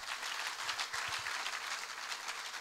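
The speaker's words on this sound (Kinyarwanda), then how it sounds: "reka dukomere Imana amashyi" A church congregation clapping together at a worship gathering, a broad sustained wash of applause, fairly quiet and distant, with no voices over it.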